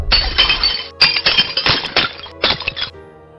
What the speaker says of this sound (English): I heard glass breaking left and right